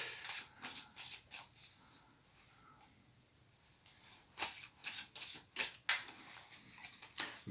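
Angel Tarot cards being shuffled up close, quiet riffling bursts with a pause in the middle before a livelier run of crisp flicks.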